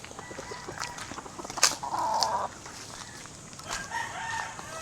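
Chickens in a backyard pen in the Philippines, with a rooster's crow and scattered clucking, close by and moderately loud over a steady outdoor background.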